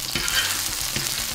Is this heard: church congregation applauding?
no